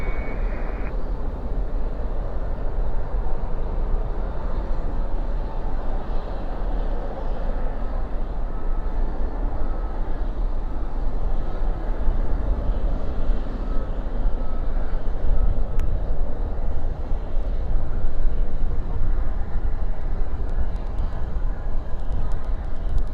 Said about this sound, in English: That was the first ever A380 turn and burn I've ever seen in real life.